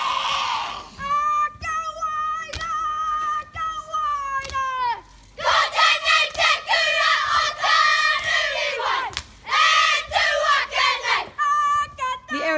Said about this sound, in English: The festival began with a performance by the Arrowtown Primary School Kapahaka group